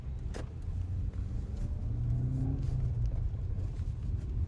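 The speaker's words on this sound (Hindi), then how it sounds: "अब मैं गाड़ी को चलाता हूँ" A Suzuki Grand Vitara Delta, a 2026 model, being driven, with a steady low engine and road rumble heard from inside the insulated cabin, continuous and moderately loud.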